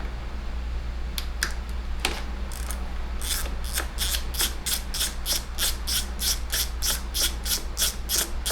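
A ratchet fitted with a T30 bit clicks away at a lower box on a Harley Pan America Special, with a few scattered clicks followed by a long run of regular, close ratcheting strokes.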